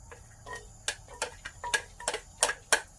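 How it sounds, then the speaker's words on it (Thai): A knife slices garlic into thin rounds on a cutting board, giving about a dozen crisp, evenly spaced chopping taps, close and fairly clear with no talk over them. "ทุบไม่ต้องทุบนะคะ หั่นเป็นแว่น"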